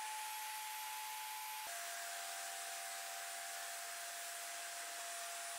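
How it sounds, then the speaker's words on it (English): Steady, loud whine of a table saw running through a crosscut sled, cutting zero clearance inserts to size, a continuous motor drone with a slight pitch drop partway through. "Its first mission will be to cut the 0 clearance inserts to size."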